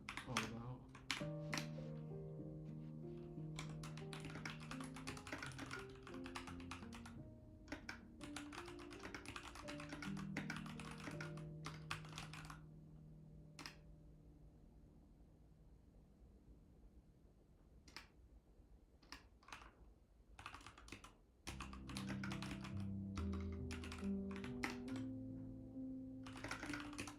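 A computer keyboard is typed on in bursts of quick, close clicks separated by pauses, over a soft tonal background that fades in the middle and returns near the end.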